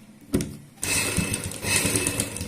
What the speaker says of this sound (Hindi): एक साइड में हम यहाँ पे सिलाई लगा लेते हैं